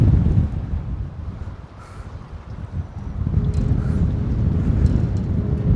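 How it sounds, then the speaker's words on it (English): Strong wind gusts buffet the microphone outdoors on a Minnesota lakeshore, a loud rumbling roar that dips briefly and then surges back, with no talking. "The wind's blowing pretty good, but you just can't beat this scenery right here."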